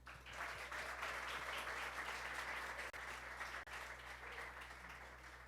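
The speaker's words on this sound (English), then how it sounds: "let's celebrate that and give them another round of applause" Audience at a product launch event giving a round of applause, steady continuous clapping heard from a distance with a low hum underneath.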